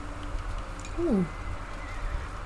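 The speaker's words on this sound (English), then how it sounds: "A horse!" A horse gives a single short whinny partway through, set in the samurai video game Ghost of Tsushima, heard over low, steady in-game ambience.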